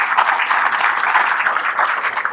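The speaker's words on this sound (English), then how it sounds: "Let's give Jim Kepler a round of applause." Audience applause at the grand opening of the TxDOT Ranger rest stop in Texas, a steady, dense wash of clapping that holds evenly from start to finish without letup.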